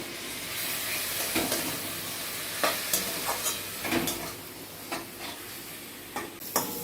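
Spice paste loosened with a little water sizzles in a pan while being stirred for Bengali chicken kosha, a steady close frying hiss broken by repeated scrapes and taps of the spatula against the pan.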